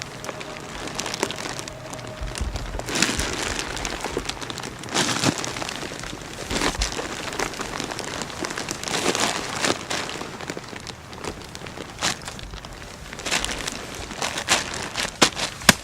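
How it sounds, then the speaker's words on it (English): A Coleman instant tent is rolled up around its center poles to push the air out, producing continuous close rustling and crinkling of the fabric with occasional sharper crackles. "The poles in the center will act like an axle, so you simply roll the air, and the poles will help you push the air out of the tent."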